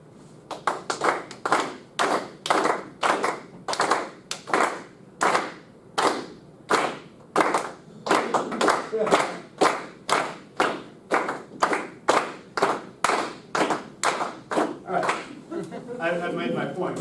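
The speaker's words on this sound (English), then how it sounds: "Clap where you think the beat is." A lecture audience claps together in unison, keeping a steady beat of about two claps per second for the whole stretch, with the crisp, loud hand claps sounding close and even.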